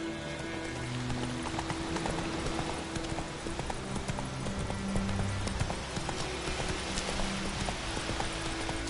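Roach the horse's hooves clip-clopping steadily in The Witcher 3, a dense rhythmic trot close up under game music and ambient sound, without talk.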